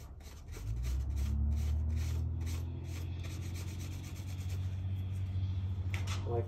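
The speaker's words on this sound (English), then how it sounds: "I'm getting ready to glue up this knife. I'm just going to clean everything off." Cloth rubbing steadily over tapered-tang knife parts while cleaning them with acetone before an epoxy handle glue-up, a close, continuous scrubbing rasp over low hum throughout.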